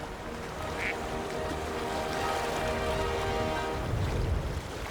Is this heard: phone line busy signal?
no